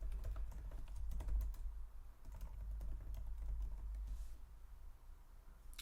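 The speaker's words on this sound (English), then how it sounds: "So if I type in everything first." Close, rapid keystrokes clatter on a computer keyboard in quick bursts over a low steady hum, with no one speaking.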